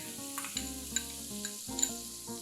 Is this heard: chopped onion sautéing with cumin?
yes